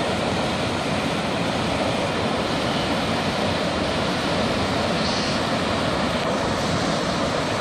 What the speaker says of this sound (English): Like a mini Niagara. It's incredible